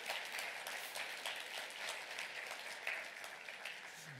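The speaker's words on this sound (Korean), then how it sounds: "우리 축하의 박수." A church congregation applauds a newlywed couple during a Sunday service, a soft, steady patter of many hands clapping at a distance that continues throughout.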